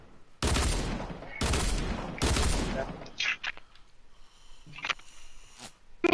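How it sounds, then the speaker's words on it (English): Three loud bursts of rapid gunfire fired at the player in a video game, each lasting about a second, followed by quieter scattered clicks and game sounds. "Oh my god, he almost shot me."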